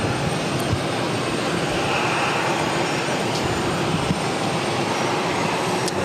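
A Southwest Airlines plane in the California One special livery arrives at Boston Logan, its engines a steady, broad roar that stays loud and even throughout, with no voices.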